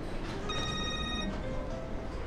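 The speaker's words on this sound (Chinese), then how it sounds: "我先接个电话。" A telephone ringtone rings, a repeating electronic tone pattern heard under steady room ambience, with no talk over it.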